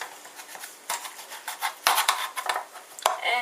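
A knife cuts through a vegetable bake with egg in it, still in its baking dish. Sharp clinks and scrapes of metal on the dish come in an irregular series, close and fairly quiet, with no talking.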